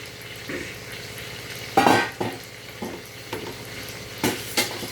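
A spoon stirs two cups of water into cooked chicken curry in a pot, giving several short scraping and sloshing strokes at an uneven rhythm over a faint background sizzle, close and moderately loud, with no talking.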